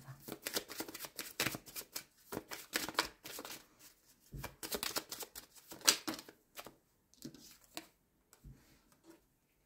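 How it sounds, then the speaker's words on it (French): Tarot cards are shuffled and drawn by hand in a quiet room, giving soft irregular bursts of riffling, snapping and sliding card sounds with short pauses between them. "On me dit de tirer une carte sur le foyer."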